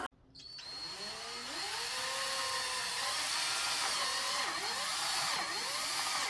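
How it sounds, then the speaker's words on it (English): A power drill bores a one-inch hole through the plastic rear headlight cover of a 2010 Volkswagen Jetta, a steady close whine that rises in pitch and dips twice as the bit bites, with no talking. "We are going to need to drill a 1-inch hole through the back headlight cover"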